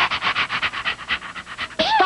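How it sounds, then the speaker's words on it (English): A cartoon dog pants rapidly and rhythmically in a quick run of breathy huffs, close and clear, ending in a short whining yelp-like sound. "Stop that ridiculous noise, Howler."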